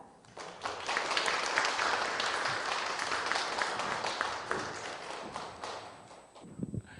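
A church congregation at a Japanese-language Sunday service applauds to welcome a guest classical singer, a full, sustained wash of clapping that swells quickly, holds steady, then tapers off near the end.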